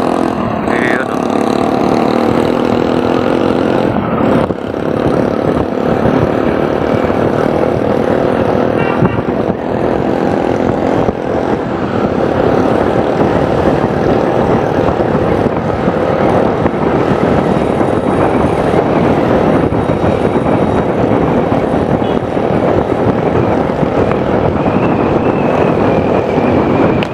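Loud exhaust from an unbalanced exhaust pipe on a commercial roof-deck build site, a harsh, constant roar filling the whole stretch at high level, with no clear pauses.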